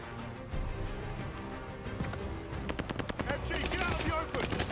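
Rapid bursts of machine gun fire in Call of Duty Vanguard, a World War II shooter, crackling loudly in dense repeated volleys that intensify toward the end amid battlefield noise and shouted voices.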